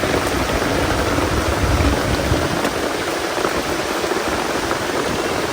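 Heavy rain pours down steadily under a dark sky at a rural work site, a dense, continuous hiss with no voices.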